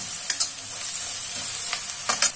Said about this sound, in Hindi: इन सब मसालों को हम अच्छे से भून लेंगे